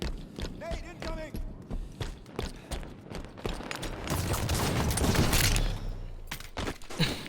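In a Halo 5 multiplayer match, a grenade blast and a rolling spray of gunfire swell up midway and then fade, with someone talking over the game sounds.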